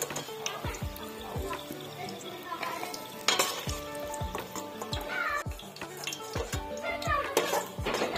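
Biscuits of wheat flour and egg frying in oil, a soft sizzle beneath frequent clinks and scrapes of a metal utensil against the pan, close and fairly busy throughout.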